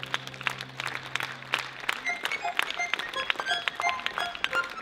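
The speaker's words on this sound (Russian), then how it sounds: "Под ваши аплодисменты" Scattered, lively clapping from a concert audience at a children's and youth music competition gala, with sharp individual claps standing out against a thin crowd wash.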